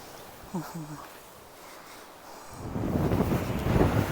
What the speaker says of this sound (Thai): วันนี้ลมแรงแรงพี่น้องเลยลมแรง